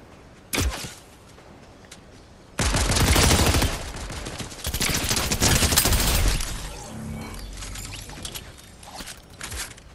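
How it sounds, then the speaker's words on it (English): Gunfire in the Fortnite video game arrives as a sharp single shot followed by dense bursts of rapid fire and fusillades, loud and close, with quieter shots trailing off toward the end. "Who is shooting at me?"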